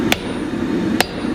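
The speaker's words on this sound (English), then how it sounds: "To see if we can fix it, I'm going to drive the handle further into the head." Two sharp, loud hammer strikes about a second apart drive a wooden handle deeper into the head of a cheap hammer, ringing out clearly over a steady low background hum.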